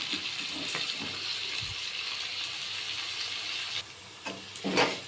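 Chopped onions fry in a pan for a fenugreek-leaf and black-eyed bean pulao, giving a close, steady sizzle with occasional stir scrapes and clinks near the end. No one speaks.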